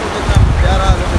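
Fast-flowing river water in the Neelum valley of Kashmir, a loud, dense rushing roar buffeted by wind noise on the microphone.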